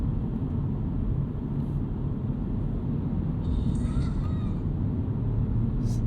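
Engine of a 2025 Mini Cooper JCW turbo hot hatch with its synthetic engine noise switched off, heard from inside while driving as a steady, dense low rumble that holds at an even level throughout.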